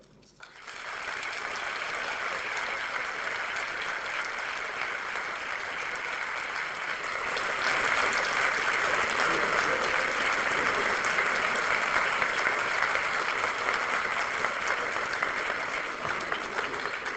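Sustained audience applause at the Davos Annual Meeting welcoming President Lula, a dense steady clapping from a large crowd that swells slightly louder midway and continues unbroken for the full duration.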